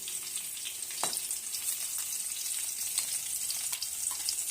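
Chopped green chillies fry in a pan with a steady, moderately quiet sizzle and crackle, broken by a few brief sharper pops and stirring clinks.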